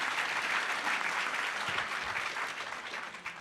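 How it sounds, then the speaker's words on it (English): At the HOPE X 2014 closing ceremonies, the crowd gives the AV crew a quick round of applause, a dense burst of clapping that holds briefly and then begins to fade. "let's just give them a quick round of applause for the amazing work they did"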